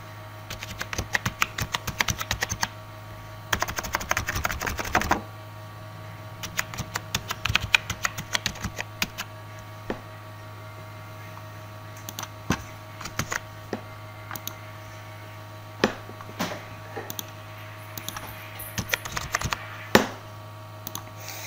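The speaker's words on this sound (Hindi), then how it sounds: "चलिए हम नंबर टाइप करके इतना करके दिखाते हैं।" Keys clatter on a computer keyboard in bursts of rapid typing separated by pauses and single taps while a number and form details are entered, over a steady low hum.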